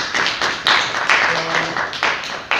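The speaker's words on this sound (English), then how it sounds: "let's give Shaughnessy another round of applause" An audience at a science and politics society talk gives a featured speaker a round of applause, a close, uneven patter of clapping in bursts with a faint voice underneath.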